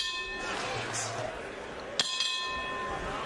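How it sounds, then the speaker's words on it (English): A boxing ring bell rings once near the middle of a bantamweight championship fight between Donaire and Oubaali as round 2 begins. It is a sharp clang with a lingering ring, heard over steady arena noise. "The bell in round number 2."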